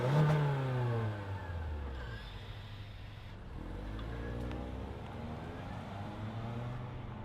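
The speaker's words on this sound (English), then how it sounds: "let's fire up this XSE Corolla" A 2025 Toyota Corolla XSE hatchback engine catches with a brief revving flare, then settles into a steady, low idle, heard close and fairly quiet.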